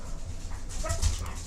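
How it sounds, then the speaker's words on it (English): A dog howls and whimpers in the background of a room, a faint, muffled cry rising briefly midway through a low, steady background hum. "I got home from work and Loki was howling"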